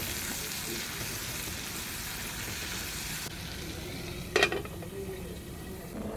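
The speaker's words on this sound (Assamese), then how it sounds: "এতিয়া একেখিনি তেলতে পিঁয়াজ বিলাহী দি দিছোঁ।" Onion and tomato frying in oil left over from cooking dried fish, a continuous soft sizzle with a brief clatter of a utensil against the pan near the end.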